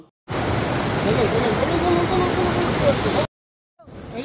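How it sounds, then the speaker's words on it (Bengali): The Rangit river in Darjeeling rushes past in a fast current, a loud, broad, steady roar of water up close that cuts off abruptly and then resumes briefly. "আর কি স্রোত নদীতে"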